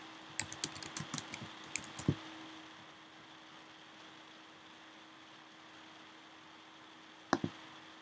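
A search for a ruler is typed on a computer keyboard, with a quick run of close, light keystrokes ending in a firmer tap, then a quiet hum and one last pair of key presses.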